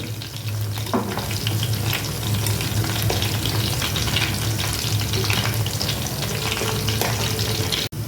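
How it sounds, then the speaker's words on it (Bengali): Pieces of Gondhoraj lemon chicken fry in hot oil with a loud, continuous sizzle and occasional stirring clatter, close up, with no talking. "এরকমভাবে ভেজে নেবেন আপনারা গন্ধরাজ চিকেন ফ্রাই"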